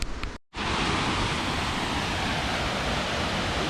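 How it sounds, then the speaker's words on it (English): Waterfall on the Trent River pours into a pool with a steady, broadband rushing roar, loud and close, after a brief dropout at the start. "There's a better view of the waterfall."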